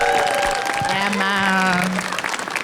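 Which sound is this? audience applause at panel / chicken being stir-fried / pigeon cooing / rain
audience applause at panel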